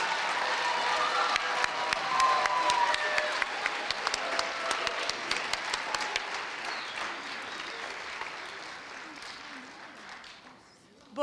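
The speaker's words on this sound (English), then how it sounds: "We need another round of applause for our all-district chorus." Sustained applause and scattered cheering from a concert audience after an all-district chorus performance, dense clapping that stays loud for several seconds, then thins and fades toward the end.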